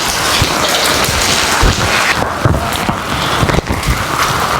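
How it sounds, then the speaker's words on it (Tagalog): Heavy rain pours down steadily in a continuous loud wash, with the dense patter of drops hitting surfaces throughout and a few heavier splashes, and no voices. "Nalakas pa rin ng ulan."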